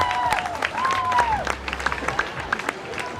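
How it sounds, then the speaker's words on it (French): A crowd at an outdoor evening orchestra dance applauds the festival committee with scattered clapping while voices and whistles rise over it, the clapping thinning out toward the end. "Allez, on les applaudit bien fort."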